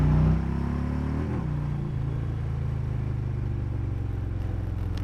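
A Harley-Davidson motorcycle with stock intake, cam, displacement and headers and open mufflers idles and revs, giving a loud, steady low rumble with a brief blip of throttle near the start, close by and alone.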